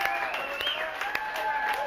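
Enthusiastic audience applause at a live college football road-trip broadcast in Jacksonville, Florida: dense, steady clapping from a crowd close by, sustained at a fairly even level for the whole stretch, with a few sharper individual claps standing out.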